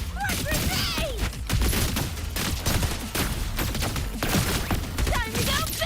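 Rapid gunfire and bursts of combat noise from the video game Wuthering Waves, with grenade blasts mixed into a dense, continuous battle din and scattered character voice lines.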